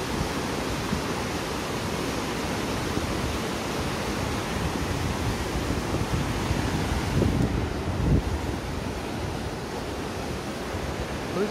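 Loud, steady roar of rushing river water fills the whole stretch, a dense broadband wash with no voices, close and constant.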